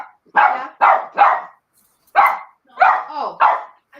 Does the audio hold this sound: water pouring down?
no